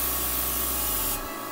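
An airbrush sprays blush makeup in one steady, close hiss lasting about a second before it drops off.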